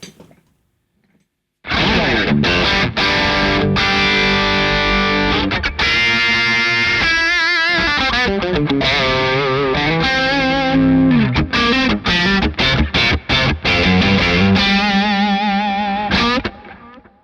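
Electric guitar played through a Greer Lightspeed organic overdrive pedal with the tone knob turned up, giving a loud, bright, gritty sound with strummed chords and single-note runs that ring on steadily.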